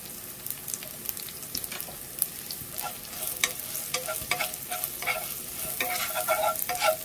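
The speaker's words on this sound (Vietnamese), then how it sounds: "Mình cho tỏi vô là cái mình xào liền" Garlic stir-fried in a hot pan for a vegetarian wheat-gluten dish, a steady close sizzle with scraping stirs and crackles that grow louder toward the end, no voices.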